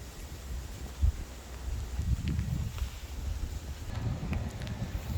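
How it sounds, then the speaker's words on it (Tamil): Cold wind blows steadily outdoors as a low, rumbling rush with gusty swells and microphone buffeting. "பாருங்கள், காற்று."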